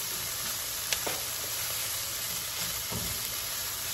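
Beef cooking in a pan for a Philly cheesesteak stuffed green pepper sizzles steadily and loudly, broken by a few sharp spatula scrapes and clinks.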